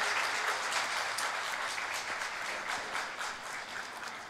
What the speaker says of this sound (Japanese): 大きな拍手をください